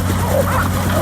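A young dog barks and yips during a working trials session, the short vocal bursts close and loud over steady low background hum.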